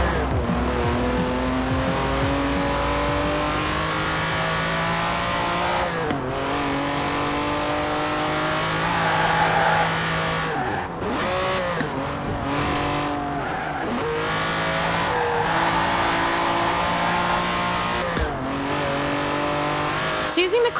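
A Lamborghini Countach racing in Forza Horizon 4, its engine revving and climbing through rising pitches with abrupt gear shifts and brief tyre squeals, loud and continuous for about twenty seconds, with a voice talking over it.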